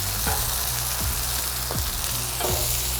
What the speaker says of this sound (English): I think my onions are sauteed.